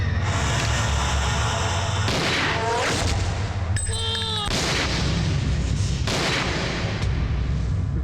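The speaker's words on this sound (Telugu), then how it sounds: "గన్నిస్తే నన్ను కాల్చాలి కానీ వీడిని కాల్చాడు." Gunfire in a tense Telugu movie scene from Dil, heard as a sharp burst around the middle against a loud, dense film soundtrack with music and effects throughout, no clear dialogue over it.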